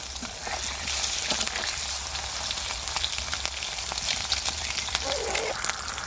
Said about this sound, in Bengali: এক থেকে দেড় মিনিটের মতো ডিমটা আমি ভালো করে ভেজে নেব